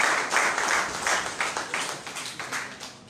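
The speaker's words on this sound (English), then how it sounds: "Let us do that very sounding round of applause." An audience at an entrepreneurship summit gives a round of applause, dense clapping in quick bursts that gradually thins and fades over a few seconds.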